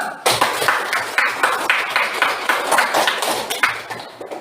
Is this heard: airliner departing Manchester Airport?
no